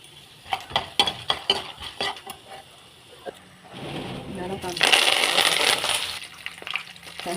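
Mustard seeds, chana dal, urad dal and peanuts hit hot oil for a breakfast dish: a few scattered clicks and light taps first, then a steady, rising sizzle that grows loud and crackly in the second half.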